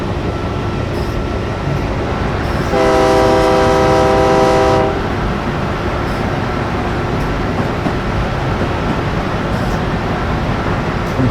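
A train in a zombie apocalypse video game rumbles along with a constant, loud, grinding roar. A sustained horn blast of about two seconds sounds early on, and the rolling noise carries on alone afterward.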